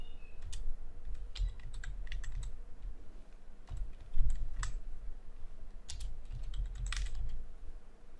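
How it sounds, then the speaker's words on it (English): Steady typing on a computer keyboard, quick clusters of soft key clicks close by, with brief pauses between bursts. "Now I am typing the student names."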